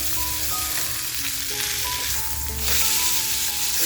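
Pomfret stuffed with tiny baby shrimp frying in a pan, a loud, steady oil sizzle heard up close, with a few faint clinks and tones over it.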